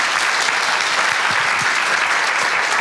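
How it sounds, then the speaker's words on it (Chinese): Warm audience applause welcoming a professor to the stage at a popular-science lecture on quantum science; dense, steady clapping from a large hall crowd fills the whole stretch without pause. "我们就用最热诚的掌声来欢迎"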